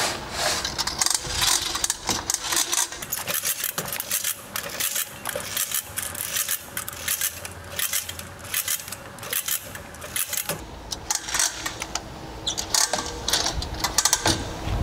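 Coxreels hose reel turned by hand, its mechanism giving a dense run of rapid clicking and ratcheting that carries on for about fifteen seconds, close and fairly loud, with no talking.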